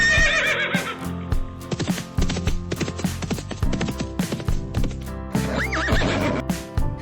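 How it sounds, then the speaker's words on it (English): A horse whinnies loudly and close, with a long shrill neigh breaking into shaking, descending calls, mixed with clip-clop hoofbeats and snorts between the calls. "Horse."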